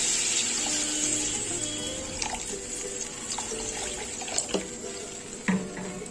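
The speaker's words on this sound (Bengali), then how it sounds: "এখন আমি গ্রেভির জন্য জল দিয়ে দেব।" Water poured from a container into a pan of fish egg curry masala to make the gravy, a steady close splashing pour with a few brief clinks, no voices.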